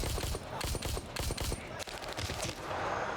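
Gunfire in the shooter game Gray Zone Warfare, a dense burst of rapid shots that then trails into scattered pops and rumbling echoes, loud and close, with no talking.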